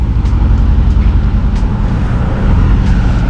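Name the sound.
Mercedes G-Wagon car driving past in Dubai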